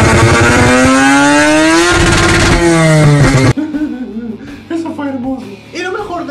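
A rotary engine revs loudly and climbs steadily toward high RPM, a high, buzzing, rising whine that holds for a few seconds. It cuts off abruptly to a quieter, uneven engine sound with a voice talking over it.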